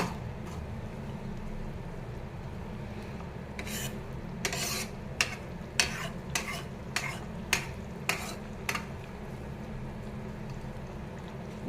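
Homemade aloe vera hair oil is stirred in a pan, giving a soft constant sizzle with a string of sharp scraping strokes in the middle, quiet and close.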